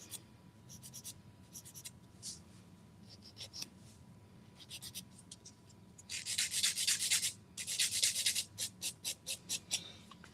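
Nail buffer rubbed across a fingernail during a manicure, soft close scratchy strokes in short bursts, quiet at first then louder rapid back-and-forth buffing toward the end.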